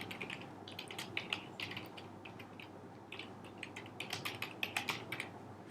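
Someone types a URL on a computer keyboard: quick, fairly quiet clusters of key clicks in uneven bursts with short pauses between them.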